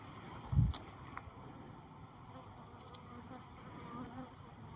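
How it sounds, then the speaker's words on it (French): A low, steady insect hum from a cluster of honey bees in a hive that fell over, quiet and continuous, with a brief louder thump near the start. "Une belle grappe d'abeilles."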